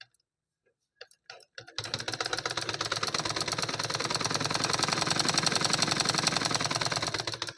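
A few faint clicks come first, then a sewing machine stitching a cotton lined blouse starts up and runs in a steady, rapid, close mechanical chatter.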